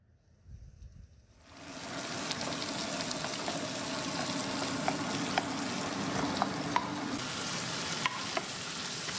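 Tomatoes sizzle and fry in a hot kadhai pan, a steady close crackle that starts abruptly, with occasional light clicks of stirring.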